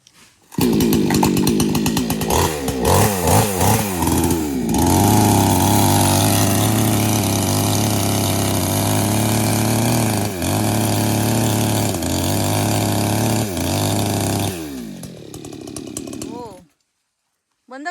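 A chainsaw revs up, then runs loud and steady for several seconds, bogging down and surging as it cuts tree stumps in an orchard, before stopping abruptly at the end.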